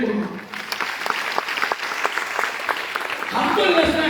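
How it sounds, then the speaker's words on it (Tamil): Applause from an audience at a large event in Kamarajar Arangam, a dense, steady patter of many hands clapping, swelling slightly louder toward the end, with a voice faintly heard over it. "இதுக்கு ஒரு கைத்தட்டை கொடுக்கணும்."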